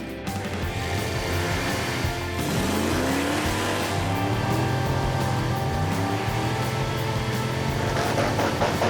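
Hard acceleration from a modified budget car at a drag strip launch, engine roaring loud and close with rising revs through gears that struggle to shift, under continuous engine noise with no talk.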